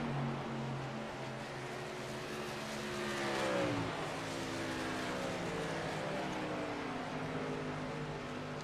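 Race truck engines drone at Homestead-Miami Speedway, with a continuous roar from several trucks and rising, shifting engine tones as they accelerate, heard from a distance and steady throughout.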